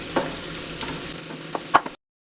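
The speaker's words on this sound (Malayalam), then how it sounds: "ഇനി അതൊരു രണ്ട് മിനിറ്റും കൂടി ഇങ്ങനെ ഇതേമാതിരി ഇളക്കി കൊടുക്കാം" Beetroot and date pickle with garlic stirred in a pan, a soft continuous sizzle broken by a few sharp spoon scrapes and clinks before stopping abruptly.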